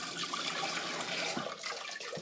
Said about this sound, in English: So we're going to go ahead and add this last little bit of water